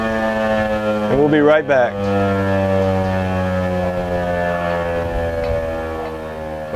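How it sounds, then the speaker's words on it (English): A civil defense tornado siren being tested about 100 feet away in a backyard in Texas gives a loud, steady droning wail that lasts the whole time, while someone briefly speaks near the start. "testing the tornado siren, civil defense siren that's in my backyard about 100 feet away"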